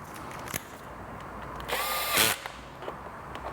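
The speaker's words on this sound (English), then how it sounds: "electric screwdriver is kind of nice because sometimes you gotta move things around until you can get them to engage" A cordless electric screwdriver briefly whirs while driving clutch screws on a Vespa GTS scooter, one short close burst with a rising whine, amid faint clicks and handling noises before and after.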